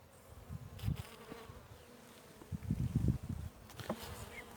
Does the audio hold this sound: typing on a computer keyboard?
no